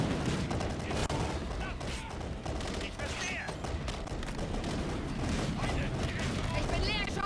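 Call of Duty: Infinite Warfare gunfire, a steady wash of rapid shots and mechanical clatter under continuous battle noise, with people talking over it.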